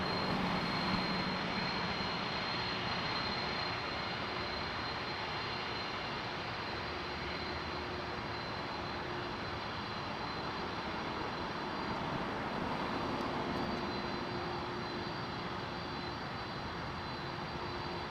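Steady, loud roar of a passenger airplane at Toronto Pearson Airport, a continuous broadband engine rumble with a faint whine that holds throughout and no talking over it.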